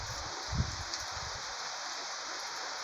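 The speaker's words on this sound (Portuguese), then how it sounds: "Chuva no nosso sertão." Rain falls over the northeastern Brazilian sertão as a dense, even hiss that holds steady throughout, with one soft low thump early on and no voices.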